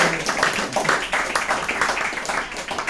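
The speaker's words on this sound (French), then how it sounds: "Et je vous demande d'applaudir." Steady applause from an audience, a dense wash of many hands clapping at once, fairly close and continuous.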